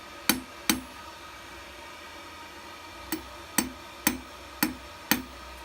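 Seven sharp hammer blows ring out on steel, forging and tapering the pencil ends of a hand-made hair barrette. They come as a pair, then a pause, then five evenly spaced strikes, each loud and close with a brief metallic ring.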